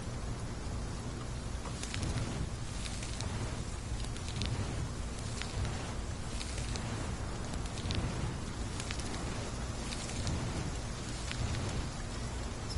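Steady rain falls in a video game, a soft even patter with scattered drop ticks that stays quiet and unchanging throughout.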